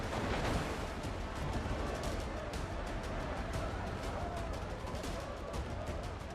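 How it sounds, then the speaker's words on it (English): Cannon fire from a gunboat in a pirate video game: dense, continuous booming and crackling volleys, loud and unbroken throughout. "there's a gunboat shooting at us"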